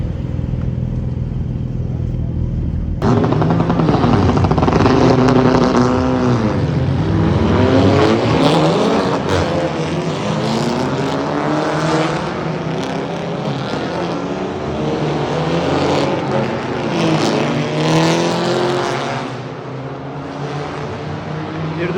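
A Lotus race car roars along a race track on a track day in Istanbul, its engine loud and sustained with rising and falling revs as it accelerates and shifts, while people talk over it.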